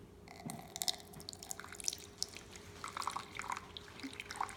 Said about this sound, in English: I'm gonna pour some water in this cup.